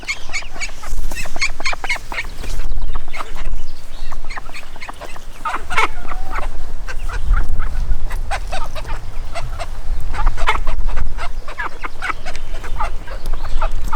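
A large flock of Red Mottled Ancona bantam chicks keeps up a dense, continuous chorus of peeps and clucks close by, with rustling and movement underneath.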